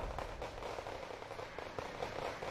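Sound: artillery fire in video game Wargame: Red Dragon

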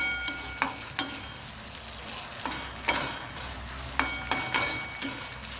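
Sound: green chillies frying for sabudana khichdi

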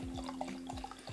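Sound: pouring carbonated mead into a glass

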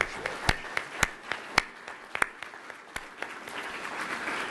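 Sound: audience applause for sponsors

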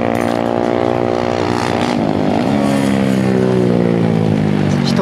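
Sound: Honda Grom motorcycle riding at Kinki Sportsland track

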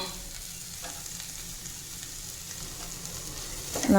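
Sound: coconut being sautéed in a pan

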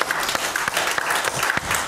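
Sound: hand clapping applause

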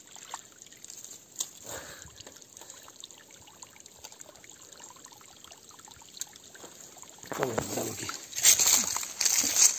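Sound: water trickling into a small pool dam

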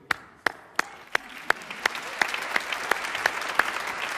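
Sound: audience applauding a Quran recitation

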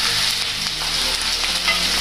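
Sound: onions being stirred and fried in a pan

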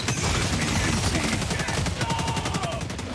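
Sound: gunfire from a coil-cooled gun in the video game Helldivers 2

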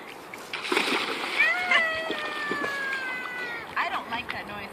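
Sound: children splashing in river water

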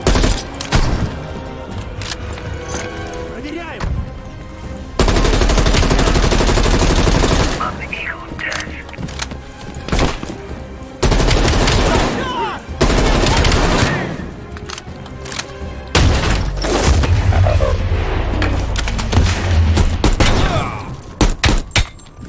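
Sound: gunfire from the video game Call of Duty Black Ops Cold War

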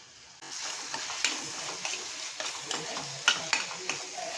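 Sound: sautéing masala in a pan, sizzling

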